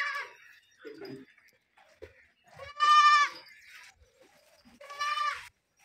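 A goat that has just given birth for the first time bleats loudly twice in a farm setting, with softer animal calls and faint background noise between the cries.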